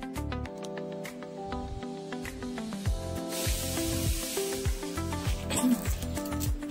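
Sliced onions and green chillies sizzle in hot oil in a cooker, a steady close hiss and spatter that swells midway, with faint music in the background and no talking.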